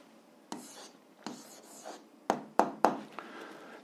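A pen writing an answer on paper in short scratchy bursts of strokes and taps, close and fairly quiet, with several crisp tapping marks toward the end and no speech over it.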